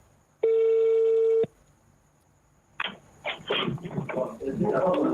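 A WhatsApp call rings once as a single steady electronic tone lasting about a second, followed by a pause and then a person talking on the line.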